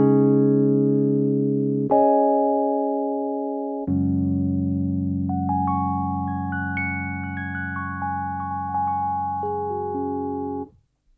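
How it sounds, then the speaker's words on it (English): A Nord Stage 3 Mark V electric piano patch with an 80s sound plays sustained chords, changing every two seconds, then a bright melodic line rises over a held low chord before ringing out. "Number 4, Mark 5 with an 80s sound."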